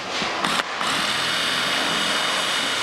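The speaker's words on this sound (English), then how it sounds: "I'm gonna try and use an electric drill" An electric drill works on rusted bolts on a V8 Jaguar, whirring continuously at high speed after a brief stop-and-start, close and loud.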